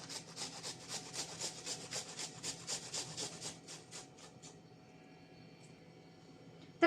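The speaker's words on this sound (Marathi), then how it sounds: "आता याच्यामध्ये मी अद्रक घालते थोडंसं किसून" Fresh ginger being grated by hand for an amla mukhwas, a quick run of steady rasping strokes close up, each scrape distinct, fading out after about four seconds into near silence.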